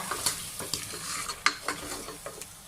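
A spoon stirs meat and potato curry dusted with coriander powder in a pot, giving soft scraping and clinking strokes over a steady low sizzle, close and moderately loud, with no talking.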